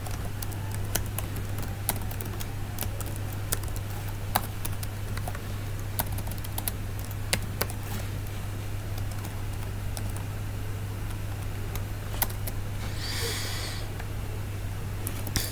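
Computer keyboard keys clatter in irregular bursts of quick taps while HTML code is typed, with a steady low hum underneath and no talking.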